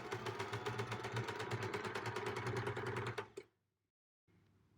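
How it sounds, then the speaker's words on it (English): A sewing machine rapidly stitches quilt fabric pieces fed one after another, a loud, close, fast mechanical chatter that runs continuously for about three seconds, then stops abruptly into near silence. "keep stitching one right after the other without stopping in between"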